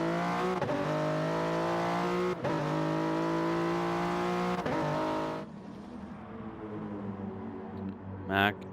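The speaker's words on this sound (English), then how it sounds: "we have a roaring and screaming Mazda in the back" A Mazda race car engine from a racing video game holds a loud, steady high-revving roar with sharp gear-shift breaks, then drops to a lower drone as it fades.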